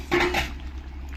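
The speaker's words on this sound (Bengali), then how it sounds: "এবার ঢাকনাটা আমি তুলে দেবো কেমন হয়েছে দেখি" A lid lifts off a pot of simmering home-style country duck curry with a brief metallic clatter, followed by a soft steady bubbling hiss.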